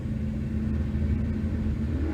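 Drag cars launching side by side at a Tucson bracket race, a Malibu against a Mustang, a steady loud low engine rumble holding throughout with a slight rising pitch near the end.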